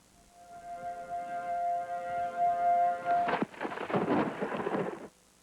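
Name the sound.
thunder during a night storm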